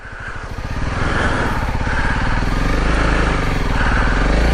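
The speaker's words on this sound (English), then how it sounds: "Come on, little motorcycle, let's go. Just milk that clutch." A small motorcycle engine revs steadily as the bike climbs a narrow 50-inch ATV trail, with the rider feathering the clutch; a loud, continuous, close drone with rapid firing pulses and clatter.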